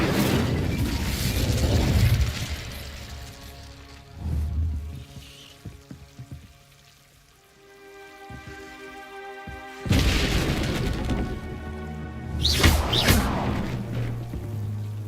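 An Incendio fire spell cast in Hogwarts Legacy, with heavy booming whooshes of flame bursting out, crackling debris and mechanical clanks between, and a second loud fiery blast later, game music and effects layered throughout.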